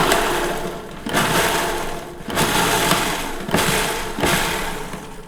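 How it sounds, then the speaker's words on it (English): A food processor pulses peas in five short whirring bursts, each a loud grinding roar of about a second that fades before the next. "So I think just a few pulses in a food processor."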